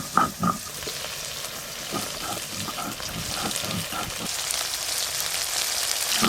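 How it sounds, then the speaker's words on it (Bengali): Tangra fish coated in salt and turmeric frying in hot oil, a continuous broad crackling sizzle with a few sharp pops near the start, close and steady throughout. "প্রথমে নুন হলুদ মাখানো ট্যাংরা মাছগুলো ভেজে নেব"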